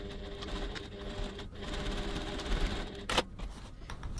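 A sewing machine stitches steadily back and forth to back tack the end of a seam on a crossbody bag, a continuous whirring run with a brief sharp click near the end, no talking.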